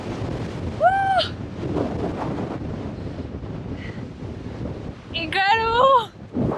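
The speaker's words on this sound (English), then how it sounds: "Super windy!" Strong gusting wind in La Puna, Argentina buffets the microphone with a continuous rough roar, while a person cries out briefly twice over it.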